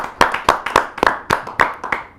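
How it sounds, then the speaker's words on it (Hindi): Audience at a televised Hindi poetry gathering clapping to welcome the poets, a sparse scattering of distinct, sharp hand claps at an uneven pace, close and fairly loud, without speech. "एक बार पुनः जोरदार ताली के साथ हम स्वागत करें सभी का।"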